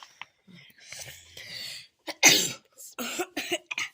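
A quick, breathy sneeze bursts out close up amid soft whispery breaths and murmurs.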